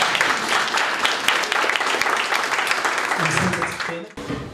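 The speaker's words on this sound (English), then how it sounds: "Let's give you a round of applause." An audience applauding after a film screening and Q&A event, a dense, sustained wash of clapping that fades near the end as a voice begins.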